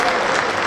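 A short burst of hand clapping after a Linux operating system lecture, a brief, dense patter of claps close by.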